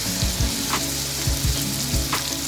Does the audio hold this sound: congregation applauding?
no